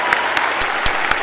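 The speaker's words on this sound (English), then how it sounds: "One last round of applause again for the graduates, for your families." Graduates and their families receive a closing round of applause at the 2019 Penn Law commencement, with steady clapping from a large crowd filling the auditorium with dense, continuous sound.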